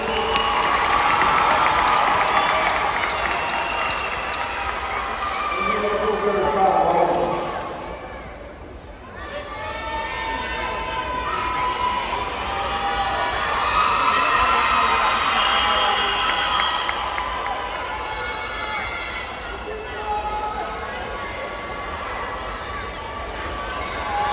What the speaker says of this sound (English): Let us give a round of applause to graduates.